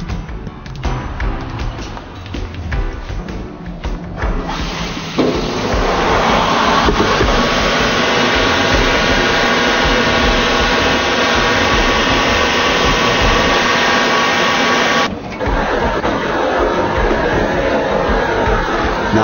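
A grinding machine coarse-grinds the base of a crystal baptismal font, giving a loud, steady whirring rush that swells after about five seconds and dips for a moment near fifteen seconds before carrying on.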